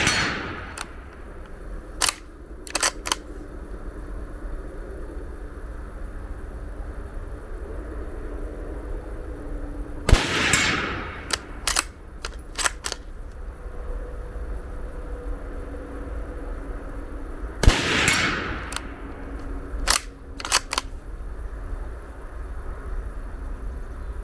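Two rifle shots, fired with a red dot sight at a small target a little past 100 yards, boom out well apart over quiet outdoor background, with scattered faint clicks in between.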